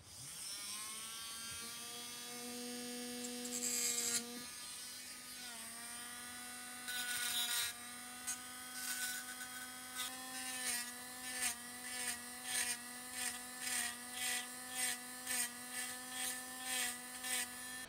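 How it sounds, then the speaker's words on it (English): A rotary hobby tool fitted with a very fine burr thins out a part of the upper bridge on a Trumpeter 1/200 HMS Hood model. It gives a steady, high, close whine with many short pulses and pitch dips as the burr bites and lifts off. "So I want to use a very fine burr to go in and thin those out."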